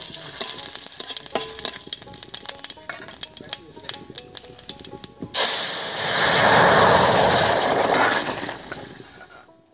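Vegetable curry with kohlrabi added to hot mustard oil with whole cumin and bay leaves, first scraped and stirred in the pan, then bursting into a loud, steady, hissing sizzle.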